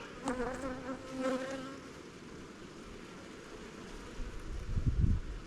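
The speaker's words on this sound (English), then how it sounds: "these bees are moving fast" Honey bees in a five-frame cell builder hive during spring queen rearing, a soft steady buzz with a few brief louder passes near the start and a low rumble of handling near the end.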